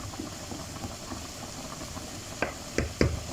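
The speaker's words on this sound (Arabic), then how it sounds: "واحط لها كوبايه ميه" A cup of water splashes into a simmering pot of zucchini, with a few short bursts near the end, over a steady background of bubbling and faint kitchen noise.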